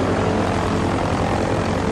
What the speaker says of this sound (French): Le petit Cessna qui fonce en piqué sur les bateaux est d'une efficacité redoutable.